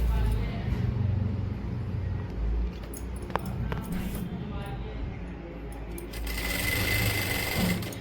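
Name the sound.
sewing machine stitching a palazzo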